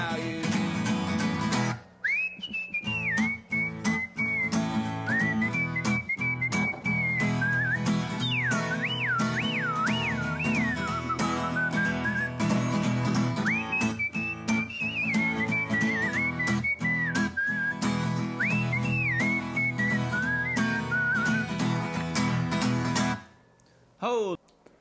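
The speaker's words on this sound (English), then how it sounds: "Take you back just a little bit back into that whistle" Melodic whistling in a country song, a clear, warbling tune riding over guitar and band accompaniment, loud and sustained, stopping abruptly near the end.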